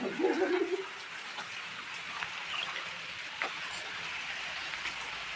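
Steady soft hiss of rain falling, continuous throughout, with a faint low rumble near the start and occasional small taps.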